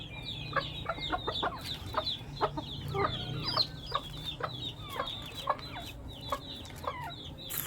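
Chickens cluck in a steady scatter of short, bright calls over a low outdoor hum, several birds close by and overlapping.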